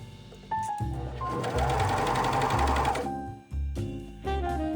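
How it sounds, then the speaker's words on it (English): A sewing machine stitches the leg openings and crotch of a long-sleeve bodysuit in short, steady bursts. The motor whirs close by in runs of about a second or more, with brief pauses between them. "We're going to sew along the bottom, so both the leg openings and the crotch."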